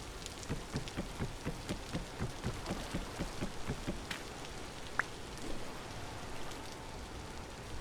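Stormy rain falls in the Vintage Story video game: a steady patter with a soft rhythmic thudding and one sharp click, heard alone at low level.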